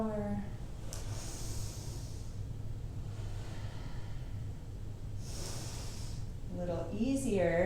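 Slow, steady breathing in and out through a calf-raise exercise with palms against a wall, soft breathy hiss near the microphone with a clearer inhale and exhale at the start and near the end, a voice speaking briefly over it.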